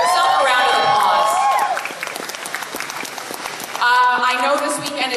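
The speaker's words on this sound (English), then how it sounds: "Give yourself a round of applause." Loud applause from a convention audience at an anime festival's opening ceremony, with cheers and whoops rising over the clapping. It dips briefly, then swells again.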